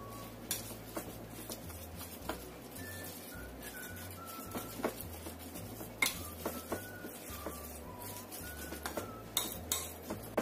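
A spoon scrapes and clinks against a pan while seasoning and oyster sauce are stirred in, a series of close, irregular metallic taps and scrapes over a low steady hum, with bird chirps faint in the background and no talking.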